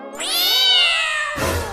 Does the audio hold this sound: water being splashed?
no